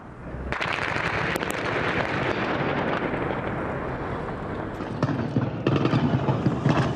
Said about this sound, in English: Explosions and gunfire, a face-off across the bridge.